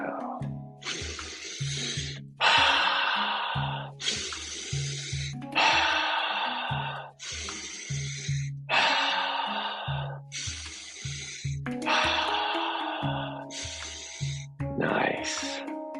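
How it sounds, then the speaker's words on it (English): Deep meditation breathing, alternating long inhales and exhales in a slow, regular rhythm, close and clear, about a dozen breaths with faint low tones between them. "Inhale, exhale, inhale, exhale."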